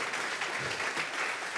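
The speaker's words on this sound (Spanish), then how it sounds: "Vamos a regalarle ofrenda de palmas al Dios de la gloria." A church congregation applauds steadily, a dense wash of clapping throughout the short moment.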